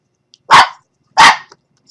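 Dog barking at a car passing on the road by the house: two loud, close barks about three-quarters of a second apart, with quiet between them.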